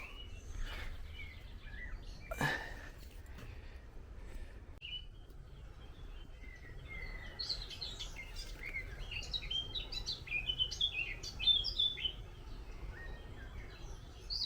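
Wild birds chirp and tweet in scattered bursts, quiet and somewhat distant, over a soft outdoor background hush.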